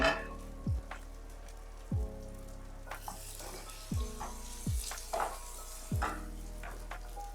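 A Korean pancake fries in a pan over the highest flame, giving a steady hiss of sizzling oil broken by a few soft, low thumps from the pan at regular intervals.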